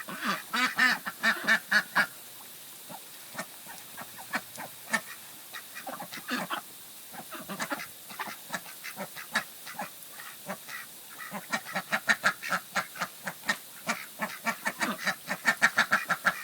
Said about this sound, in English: Ducks are so much fun.